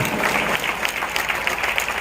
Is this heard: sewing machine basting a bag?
no